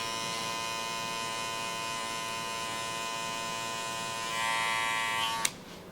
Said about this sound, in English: On the bottom, I'm going to use a light clipper over comb technique to just even up that jawline.